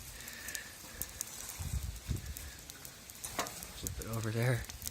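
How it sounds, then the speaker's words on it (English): Food sizzles in a hot pan on a cooking surface as a soft, crackling hiss runs under sporadic clatter, with a brief squeaky toy-like sound near the end. "Ah, now we got some sizzle."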